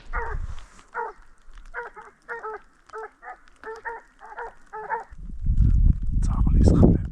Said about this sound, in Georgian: ძაღლის ხმები უკვე მესმის.